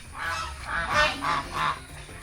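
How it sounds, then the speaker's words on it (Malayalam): Domestic geese in a rain-soaked, muddy yard let out four or five nasal honks in a loose, uneven run. The calls are fairly close and clear above a quiet background. "നമ്മുടെ വാത്തക്കുട്ടന്മാരൊക്കെ ചെളി പിടിച്ച് നിൽക്കാണ്."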